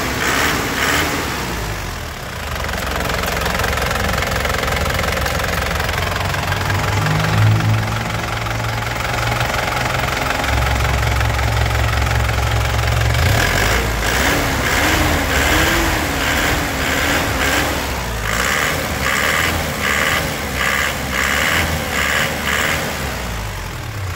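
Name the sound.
Grand Touring Turbo 2008 engine being revved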